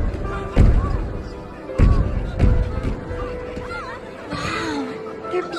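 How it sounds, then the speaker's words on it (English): Fireworks go off in a few loud, sharp booms spaced over several seconds, with a cartoonish voice chattering in between and under the blasts. "The fireworks have started."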